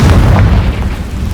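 A Confringo spell blast in Hogwarts Legacy, a loud, dense, rumbling boom that fills the whole moment and eases slightly toward the end.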